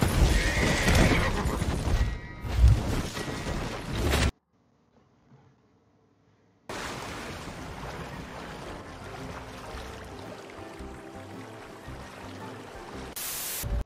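A horse whinnies loudly in Red Dead Redemption 2 amid busy game ambience with water and hoofbeats, then a brief near-silent gap before steady background sound resumes.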